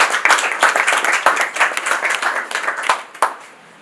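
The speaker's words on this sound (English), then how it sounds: "a round of applause, please" Audience clapping welcomes a university Vice Chancellor at a Faculty of Law orientation for pioneer students, dense close applause with sharp individual claps that tapers off at the end.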